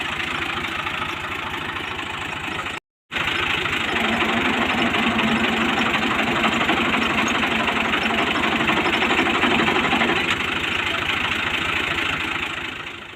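Tractor engine idling steadily while stuck with its tyres sunk in deep floodwater and its body resting on the ground, a continuous mid-to-low rumble with a faint knock, close and loud, briefly cut out once, no talk.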